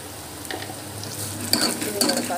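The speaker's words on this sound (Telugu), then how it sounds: "పసుపు వేసుకొని బాగా మనం కలుపుకోవాలి." Turmeric being stirred into a frying mixture in a pan, a utensil scraping and clinking against the metal over a soft sizzle, with a few louder stirring strokes near the end and no talk.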